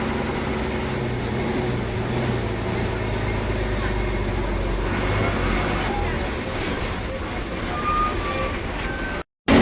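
Inside an MSRTC Lal Pari state bus rolling into Pune's Swastik bus stand, a constant engine drone and road noise fill the cabin, with a brief dropout right at the end.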